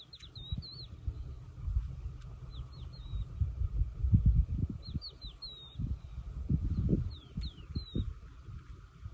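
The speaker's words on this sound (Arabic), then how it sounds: "أصور بعض اللقطات مع أصوات العصافير" Sparrows chirp in brief quick bursts of high tweets, repeating every couple of seconds over low rumbling and thumping background noise.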